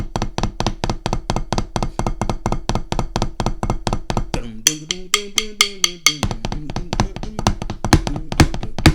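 Rapid, evenly spaced sharp drum stick strokes in a fast, choppy run, briefly interrupted midway by a tonal rising-falling phrase before the quick strokes resume.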